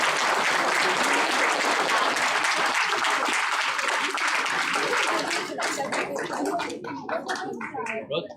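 Audience applause at a 74th Indian Republic Day celebration, loud sustained clapping from a crowd that thins out and fades into scattered claps toward the end.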